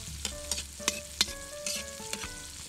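Ingredients for dragon-mask sisig sizzle and fry in a wok, with sharp scraping strokes of a spatula every half second or so over a steady close hiss; no talking.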